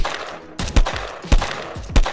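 Gunfire using armor-piercing rounds in the Will to Live Online game, a few heavy, close shots in quick succession with loud thumping impacts.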